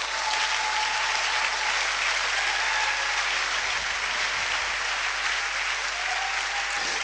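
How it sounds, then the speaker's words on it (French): Church congregation applauding together during a sermon, a dense, steady wash of clapping that holds at even loudness for the whole stretch with no voices over it. "Applaudissez pour le Seigneur."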